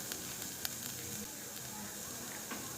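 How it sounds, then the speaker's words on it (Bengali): Carrots and beans fry in a pan with a soft, steady sizzle and hiss, faint and close, with occasional small crackles. "গাজর আর বিনসটা কিন্তু আবার একটুখানি মানে নেড়েচেড়ে ভেজে নেব"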